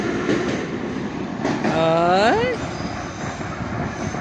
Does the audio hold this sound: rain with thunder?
no